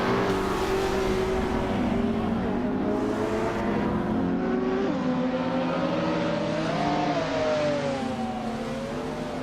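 A 2015 McLaren 570S supercar racing in a video game, its engine droning steadily with a rising and falling whine as it shifts and accelerates, loud and continuous with no talk.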